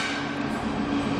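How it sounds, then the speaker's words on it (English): A triple-headed loaded coal train passing through the middle road at Muswellbrook, heard as a steady, dense rumble and roar of wagons rolling by at close range. "Triple-headed loaded coal train is coming through the middle road at Muswellbrook on its way to the port"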